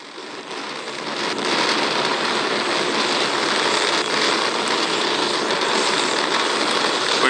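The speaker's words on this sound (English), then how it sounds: "Starship test vehicle number 11 ascending over Starbase in South Texas." SpaceX Starship test vehicle 11 climbing over Starbase in South Texas, its eleven rocket engines giving a steady, loud broadband roar with crackling texture that holds constant throughout, heard from a distance with no voices.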